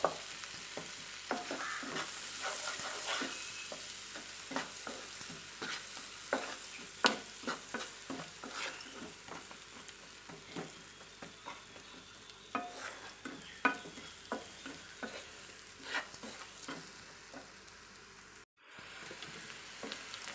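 Onions fry in hot oil with curry leaves, a steady soft sizzle broken by frequent scraping stirs of a spatula in the pan, close and fairly quiet, with a brief dropout near the end.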